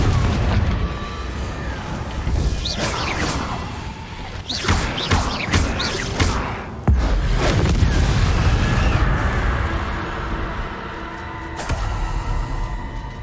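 A Confringo fire spell bursts in Hogwarts Legacy, with repeated booming blasts and crashing impacts over a rumbling game soundscape, loud and dense throughout.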